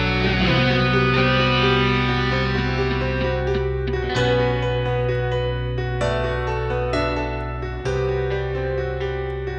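Music mix in a mixing and mastering session with a reverb effect applied, a dense sustained track with distorted tones and reverberant tails throughout, with no voices.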